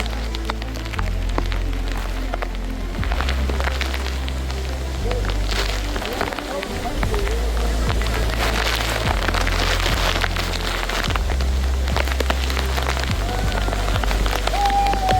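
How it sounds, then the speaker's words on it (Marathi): Steady, dense hiss of waterfall spray blown by wind, like heavy rain pattering on surfaces, with gusts of wind and people talking underneath. "इथपर्यंत धबधब्याचं पाणी वाऱ्याने निघून येते."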